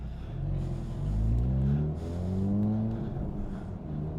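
Honda Civic Type R FL5 driving a lap at Virginia International Raceway, engine rising and falling through revs with audible gear changes, heard from inside the car at steady loudness without talk.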